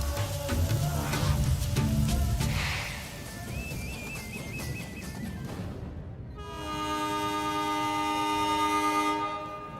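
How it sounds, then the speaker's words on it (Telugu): A departing passenger train creaks and rumbles as it starts to roll, then a long, loud multi-tone horn blares for about three seconds before fading, with steady rail noise throughout. "అయ్యో ట్రైన్ కదిలిపోతుంది."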